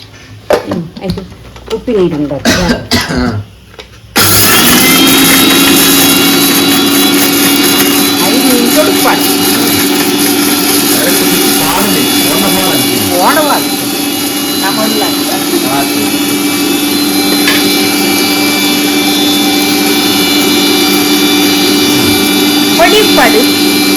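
After a few seconds of talk, a kitchen mixer grinder starts and runs with a loud, steady whine, drowning out faint voices in the background.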